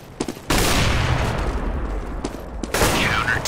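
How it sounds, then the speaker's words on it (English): Sharp burst and explosive pops from a flashbang grenade in Counter-Strike, heard loud and close during a competitive match, with a second burst near the end amid ongoing game noise. "I'm throwing a flashbang."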